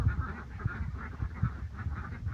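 Ducks on a backyard poultry farm call in low, throaty honks and quacks, several birds overlapping in a steady, fairly close jumble for the whole stretch with no talk.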